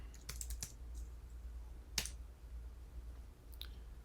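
Typing a web address on a computer keyboard gives a few faint, scattered key clicks in small bursts with quiet gaps in a still room.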